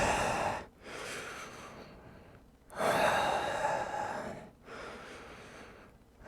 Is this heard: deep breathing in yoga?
yes